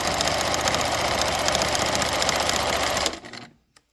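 A Husqvarna Viking 6690 sewing machine running flat out, a loud, fast, steady mechanical whir that holds for about three seconds and then winds down and stops.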